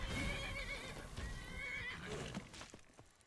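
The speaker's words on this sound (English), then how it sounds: "A wild horse is helping me." A wild horse in a video game neighs with a long, loud whinny that stands alone through most of the clip and fades toward the end.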